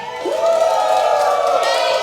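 A crowd shouts and cheers together in a loud, sustained burst of voices that rises sharply at the start and holds steady to the end.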